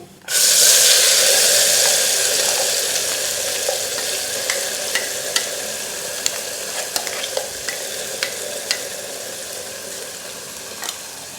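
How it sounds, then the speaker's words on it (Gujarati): Green paste, with ajwain and a pinch of asafoetida, sizzles loudly in a hot pan as it sautés for a vegetable curry, a steady hiss that fades slightly, punctuated by sharp clicks of a spoon stirring against the pan. "પેસ્ટને આપણે બે મિનિટ માટે સાતળી લઈશું"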